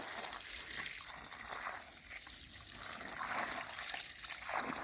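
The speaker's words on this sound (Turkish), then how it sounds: "Şu anda can suyu veriyoruz." Water pours steadily onto the soil around a newly planted tree, a continuous splashing gush with some trickling, close and fairly loud, with no talk over it.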